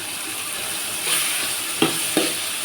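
Oil sizzles steadily in a pan while a Tamil cook prepares pudalangai koottu with crushed garlic and asafoetida, a constant bright hiss with a few sharp crackles and spatters near the end.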